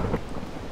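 A short, low rumble of thunder in Minecraft mixed with steady rain hiss, fairly faint and continuous.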